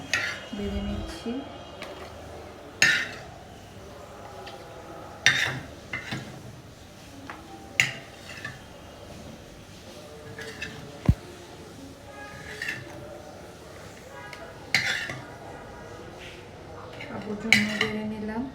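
A spoon and dishes clink while pigeon curry is ladled into bowls. Scattered sharp clinks and taps come every couple of seconds over a quiet room background.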